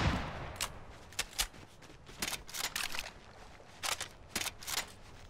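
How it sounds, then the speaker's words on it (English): Scattered bursts of video game gunfire crack at a moderate distance, several short volleys spaced irregularly over quiet background noise, with no talking. "You shot at me, fucking missed."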